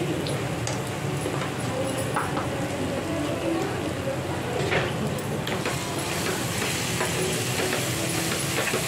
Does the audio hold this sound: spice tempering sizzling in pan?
yes